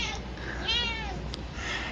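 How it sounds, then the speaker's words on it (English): A pet cat gives a single clear meow, close and moderately loud, over a steady indoor background hum. "So anyway, there's the kitties."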